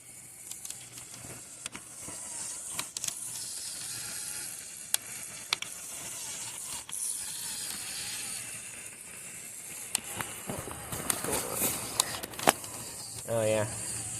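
A motorized Lego Technic Toyota Land Cruiser 70 chassis crawling over rough terrain, a faint whirring motor hum with scattered plastic clicks and knocks, near and quiet, while someone talks over it.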